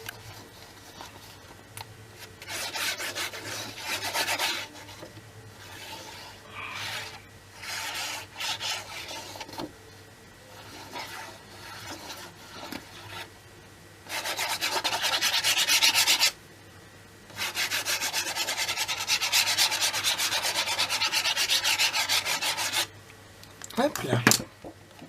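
Paper being pressed and rubbed flat by hand onto an album page after a piece of organza was glued, making repeated scratchy rubbing strokes in bursts with pauses, fairly close, with a quiet voice speaking between them.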